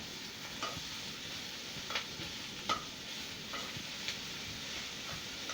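Shrimp frying in a hot pan for spaghetti, a faint steady sizzle with a few soft stirring scrapes and taps spread through.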